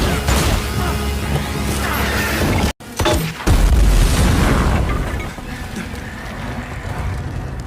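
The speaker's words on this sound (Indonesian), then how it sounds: "mengambil senjata peledak untuk membuat lubang besar" Film sound effect of a blast tearing a big hole, loud rumbling chaos, a brief cut to silence, then a heavy booming explosion that rolls off into a long, sustained roar.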